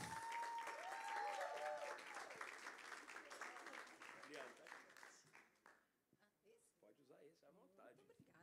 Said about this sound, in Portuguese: quero que você receba com muito aplauso a nossa querida doutora Liane Rocha